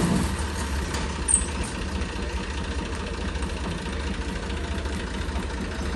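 A tractor engine idles during brick unloading, a faint, steady low diesel rumble that continues evenly throughout with slight background noise.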